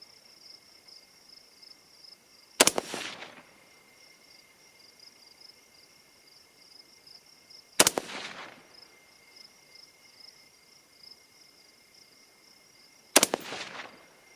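Three sharp AR-15 rifle shots ring out at an outdoor range, spaced about five seconds apart. Each crack echoes briefly over a steady background of insects chirping.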